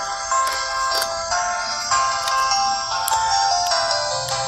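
An Itel it2165 basic mobile phone plays its startup tone when switched on after the battery is inserted: a loud, bright melodic jingle of repeated ringing notes lasting several seconds, close and alone.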